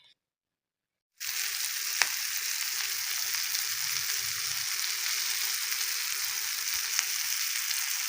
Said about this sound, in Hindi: अब इन्हें ना ज़्यादा खुले तेल में फ्राई करें तो ज़्यादा मज़ेदार होते हैं